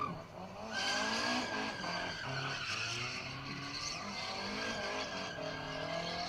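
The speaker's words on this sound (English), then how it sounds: "starting to get plenty of tyre smoke there, using all the pad, plenty of donuts" Race car spinning donuts on a skid pad, throwing heavy tyre smoke and rubber, with continuous loud tyre squeal and engine roar throughout, close and dense, no talk.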